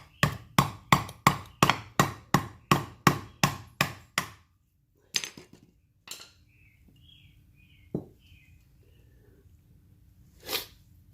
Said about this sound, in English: with a couple taps of the hammer